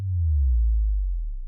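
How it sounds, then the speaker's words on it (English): A single low synthesized sine-wave tone from a sound design synth hums smoothly for about a second and a half, gliding slightly downward in pitch with no other sounds. "timbre 1 is just one sine wave"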